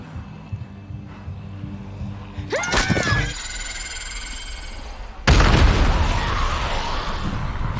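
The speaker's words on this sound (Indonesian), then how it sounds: "Ia menembakkan peledak untuk menggiring para zombie agar dirinya bisa melintas." An explosive blast set off to draw a horde of zombies away in a Walking Dead film scene: low rumbles and a sharp tonal burst, then a sudden heavy boom that lingers as loud debris noise.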